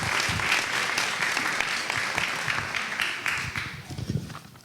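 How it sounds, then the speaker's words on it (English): An audience at a philanthropy and foster care event applauds steadily for several seconds, a dense even wash of clapping that holds near constant and tapers slightly toward the end. "Please give them a round of applause."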